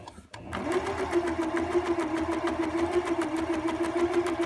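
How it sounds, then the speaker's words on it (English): A sewing machine runs steadily, stitching a pocket directly onto the front of jogger pants, with a continuous close whirring hum after a brief start. "I'm just going to stitch down around the edge of the pocket, curve around"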